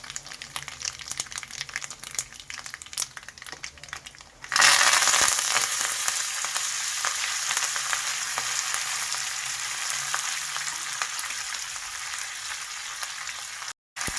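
Mustard seeds, asafoetida and Byadagi chilli dropped into hot oil for tempering, bursting into a sudden loud, sustained hiss and crackle after a quieter start, then sizzling steadily until a brief cut near the end.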